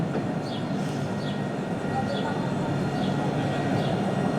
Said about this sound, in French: Il y a la ligne 3 qui arrive de l'autre côté